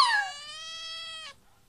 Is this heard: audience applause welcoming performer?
no